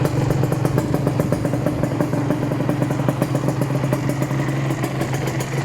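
A Honda VR150 motorcycle with a titanium exhaust running at a steady idle, a loud, close, rapid mechanical clatter and throb that continues without a break, with no voices.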